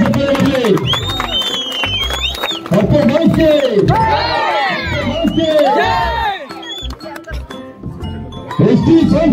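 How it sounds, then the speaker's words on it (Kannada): Crowd cheering and clapping at a combined Women's Day and Appu birthday celebration with a cake offering, near and loud, with shouting and children's voices mixed in, and a voice talking over the noise throughout. "ಜೋರಲ್ಲ ಚಪ್ಪಾಳೆ ಬರಲಿ"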